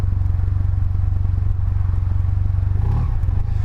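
SYM Maxsym 508TL scooter engine idling with a steady, low, even burble, close and loud, with a small blip near the end.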